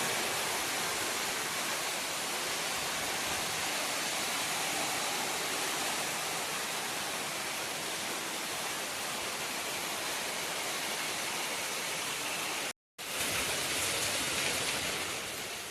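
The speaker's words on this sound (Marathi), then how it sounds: "बघा आपले पावळे सुद्धा गळाक लागलेले आहेत" Heavy village rain in the Konkan pouring down and dripping from the roof eaves, a loud, steady unbroken hiss of falling water with a momentary cut near the end.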